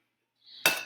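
A single egg cracks against a hard edge while cookie dough is being made, giving one sharp, close, bright click-crack after a brief faint scrape. It is heard alone, with no voices.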